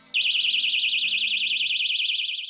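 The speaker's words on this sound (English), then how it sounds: "While backpacker Rachel might do away with her 4 rape alarms as she sets off on her travels around the country" A personal rape alarm sounds, a loud piercing electronic siren with a rapidly warbling high pitch, starting abruptly and holding steady for the rest of the clip.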